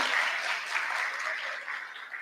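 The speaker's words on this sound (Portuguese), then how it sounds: "Uma salva de palmas também." Applause at a national teaching congress: a short, dense burst of clapping at moderate level that holds steady for a couple of seconds.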